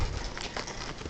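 Heavy rain pours during a December night thunderstorm, a dense, continuous close patter striking the ground and the recording gear.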